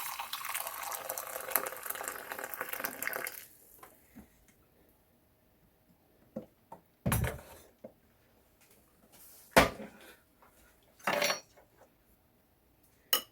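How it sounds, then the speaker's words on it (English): Boiling water pours steadily with a bright hiss for a few seconds, then stops, followed by a few scattered clinks of dishes and utensils while making golden chia tea. "Then you're going to add some boiling water and let it sit for 5 to 10 minutes."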